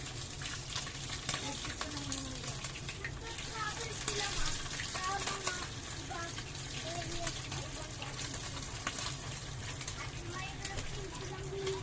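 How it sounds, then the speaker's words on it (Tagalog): Galunggong fish, first stewed in vinegar, fries in oil with a steady loud sizzle and crackle that fills the space, while a faint voice and occasional stirring sounds come through underneath. "Pritong galunggong na pinaksiw muna."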